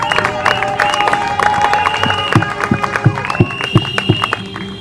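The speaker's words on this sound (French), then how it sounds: "Applaudissez pour lui, s'il vous plaît" Guests at a wedding clap together, with music and crowd chatter running underneath and rhythmic low thumps rising in the later seconds.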